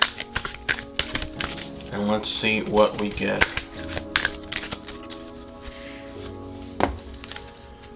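Tarot cards riffle and snap in quick bursts as they are shuffled, followed by scattered taps and flicks as they are laid down, with a voice speaking briefly.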